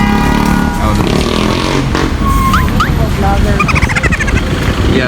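Traffic engines rumble and rev around a moving vehicle while driving in city traffic, a continuous loud motor drone with passing engine surges and brief squeals, and a voice talks over it.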